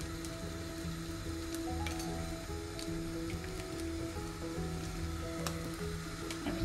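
Steady, close sizzle of toast with kaşar cheese frying in a wide frying pan, a constant crackling hiss with small pops throughout and no talk.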